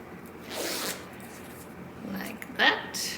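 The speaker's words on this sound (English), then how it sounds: "It's got a zipper" The zipper on a handmade crochet sling bag is pulled in quick rasping strokes, ending in one sharp, louder zip, close up, with rustling of the bag around it.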